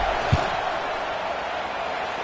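A stadium crowd roars steadily in a simulated football video game during a field goal attempt, a dense continuous wash of noise with a brief thump early on.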